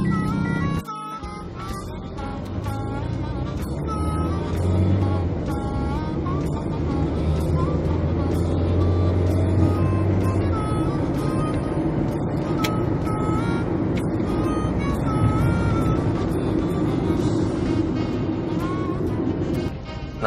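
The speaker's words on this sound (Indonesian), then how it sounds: "gue bakal jajal kickdown mobil ini" A 2007 Toyota Vios G automatic, Thailand-built, revs hard under kickdown acceleration, its engine a loud sustained drone with shifting tones throughout, while someone talks over it.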